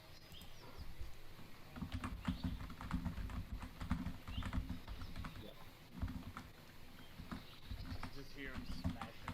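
Rapid, clattering keystrokes on a computer keyboard, a busy irregular patter running steadily throughout, heard close and under a low background murmur.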